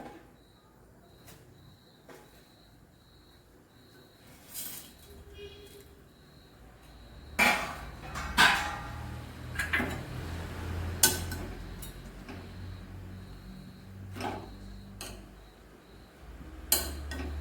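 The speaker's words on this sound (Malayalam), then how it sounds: "ഇങ്ങനെ തിളയ്ക്കുമ്പോൾ മാഗി ഇടുക" Maggi noodles dropped into a pot of boiling water in a home kitchen, with a few close clinks and knocks of metal over a steady low bubbling, and scattered sharper clatters toward the end.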